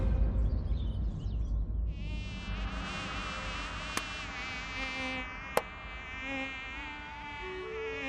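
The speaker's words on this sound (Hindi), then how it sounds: "मच्छर भीतर है, हमें भय लग रहा है" A mosquito buzzes indoors in a comedy scene, a thin, wavering whine that starts after a moment and holds steady near the ear for several seconds, with two sharp clicks cutting through it.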